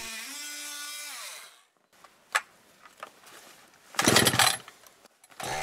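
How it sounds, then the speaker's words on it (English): Oscillating multi-tool cutting into a wooden log for a diamond-saddle notch: a steady high whining buzz that winds down and stops, then scattered clicks and one short, loud rasping burst of cutting. "You can use chisel for this work, or multi-tool like here,"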